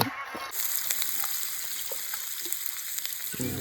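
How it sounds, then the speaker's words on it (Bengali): Onions sizzle and fry steadily in a pan at a Bengali outdoor picnic, a continuous close crackling hiss with brief stirring knocks, no talk over it. "পেঁয়াজ ভাজা হচ্ছে"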